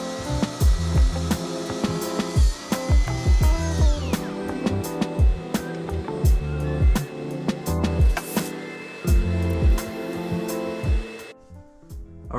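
A power tool cutting angles through clamped walnut staircase pieces: a loud, near whirring motor with repeated cuts and clunks, spinning down and stopping near the end.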